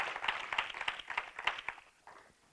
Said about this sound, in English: Let's give the Lord a hand clap for this word